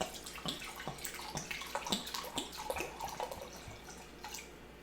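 Vodka pours into a glass jar for homemade vanilla extract, a soft close trickle and splash of liquid with small drips and gurgles running throughout, no talking.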